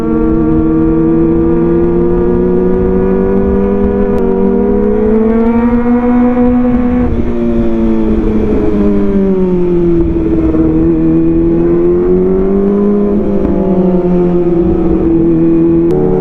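A Kawasaki ZX25R motorcycle fitted with an Arrow exhaust revs hard nearby, a loud, raspy, high-pitched engine note that climbs and dips in pitch as the throttle rises and falls, running steadily throughout.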